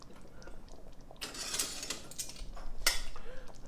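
A spoon scrapes and clinks against a metal cooking pot as stew is served out, two brighter scraping bursts standing out over quiet background.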